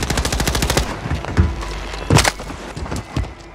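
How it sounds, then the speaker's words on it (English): Rapid automatic gunfire in the Warzone 3 battle royale, bursts of sharp loud shots in a fast steady rhythm with a few heavier impacts, ringing out over game ambience. "I hear gunshots"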